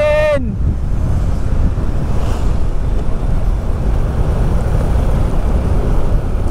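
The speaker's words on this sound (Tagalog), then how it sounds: "Sarap ng hangin, gagi!" Strong wind rushes loudly and steadily over the microphone during an open-air ride on Marilaque, a broadband roar that follows a brief whistle-like tone at the start.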